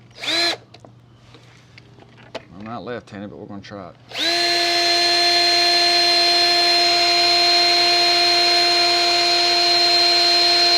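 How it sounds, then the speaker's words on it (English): A person speaks briefly with a few clicks and taps, then a power drill whirs on and runs at a steady high-pitched whine for several seconds, drilling a hole in plastic. "line this up and drill a hole about right in here"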